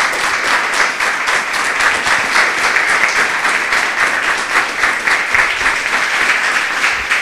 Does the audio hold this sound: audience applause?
yes